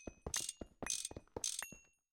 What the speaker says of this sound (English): We'll do the normal wrench first